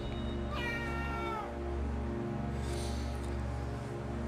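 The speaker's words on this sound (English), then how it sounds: "Oh, there's a kitty." A cat meows once, a rising then falling wail up close, with a faint second cry later, all over a constant loud low hum and no talking.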